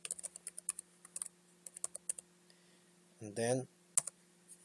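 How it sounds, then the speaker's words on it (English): Typing on a computer keyboard gives bursts of quick, sharp clicks, fairly close and quiet in a calm room, with a brief spoken phrase partway through. "So we're gonna type operating"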